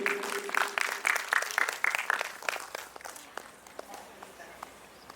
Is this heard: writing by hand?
no